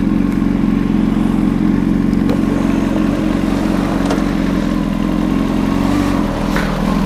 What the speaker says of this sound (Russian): Прикольный движок.